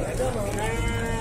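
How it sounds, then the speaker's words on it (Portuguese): A goat bleats at a livestock market selling goats and sheep in Tabira, Pernambuco, a wavering nasal cry rising over crowd murmur, with someone speaking Portuguese over it. "Ó o bode, ó o bode. Inteiro, um bode inteiro."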